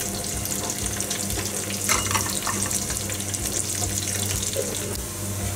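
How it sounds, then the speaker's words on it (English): Steady hiss and crackle of onions frying in a pan with mustard seeds, a faint low hum underneath, continuous and fairly close, no talking. "As the onions are frying"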